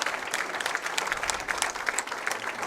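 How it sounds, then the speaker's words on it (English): Audience applause fills the hall at a junior bowling stepladder final, a dense, steady patter of many hands clapping throughout at moderate loudness with no talk over it. "Let's give a big round of applause to our third place finisher, Elena Carr"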